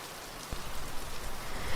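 Steady rain falling on a surface, a soft continuous hiss of drops with slight swells, fairly faint and with no voices.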